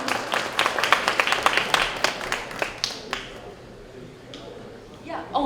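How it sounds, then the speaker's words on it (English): An audience claps for a speaker at a conference, a loud burst of applause in the first few seconds that thins out and fades, followed by a brief voice near the end. "Clap your hands for Delia."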